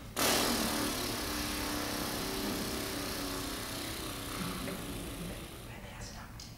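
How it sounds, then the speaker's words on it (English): A lawnmower engine starts with an abrupt burst and settles into a loud, steady mechanical drone close by, droning on without a break to the end. "I started the lawnmower."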